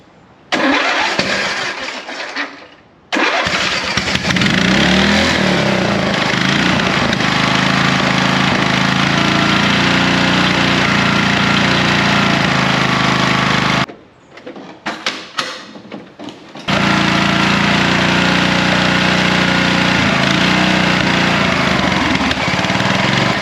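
A racing lawn mower engine with a failed governor cranks and fires, runs loud and steady, cuts out briefly, then restarts and settles back into a sustained roar.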